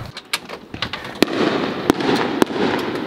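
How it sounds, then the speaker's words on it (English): Fireworks go off nearby outdoors: several sharp, loud bangs and pops at irregular intervals over a crackling, rumbling background, with no talking. "Do you hear that? It's not gunshots, it's fireworks"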